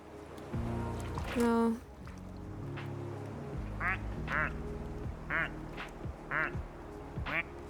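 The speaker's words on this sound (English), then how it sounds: "it's a kawaii anime duck" Rubber ducks quacking in the game Placid Plastic Duck Simulator, a string of repeated squeaky quacks over a soft watery background, with a voice speaking briefly over one of them.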